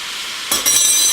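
A hot pan of frying food is stirred, a quiet hiss that jumps into a louder, brighter sizzle with a clink of the utensil partway through.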